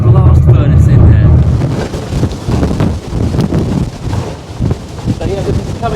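Storm-force wind from Storm Eunice gusting on Lundy Island, a loud, continuous roar and buffeting close to the microphone that swells and eases in waves throughout.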